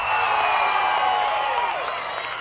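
The audience at a State of the City 2014 address in Meridian cheers and applauds. A loud, sustained roar of voices and whoops carries over continuous clapping and tapers slightly at the end.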